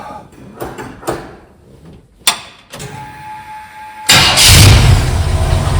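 A car being fired up after its in-tank electric fuel pump is reconnected: a few clunks and clicks, a brief cranking attempt, then the engine catches and runs loud and steady, close by.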